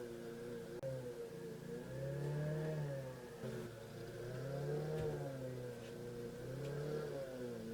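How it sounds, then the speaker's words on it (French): A lawn mower passes outside under a window, a faint, distant engine drone that swells and fades as it moves back and forth. "Là c'est que la tondeuse passe."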